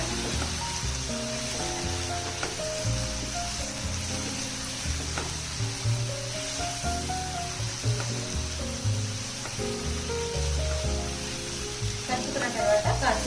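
Chopped tomato pieces sizzle steadily in a hot pan with onions as they are mixed in for a drumstick and egg curry, a soft continuous frying hiss under background music and talk.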